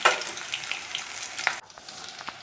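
Fish oil fritters frying in a pan after being flipped, giving a dense, close hiss of sizzling oil that drops suddenly quieter partway through.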